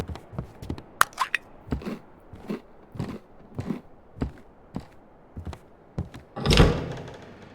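A locked door in the video game Static Dread being tried, a string of dull thunks and rattles at an uneven pace, closing with a louder, heavier knock-like burst, no talk.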